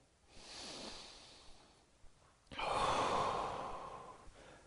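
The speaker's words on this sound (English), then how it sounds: "Take one more deep breath here." Deep breathing during a passive yoga stretch for men over 40: a soft inhale, a pause, then a fuller, louder exhale through the nose and mouth, close and alone.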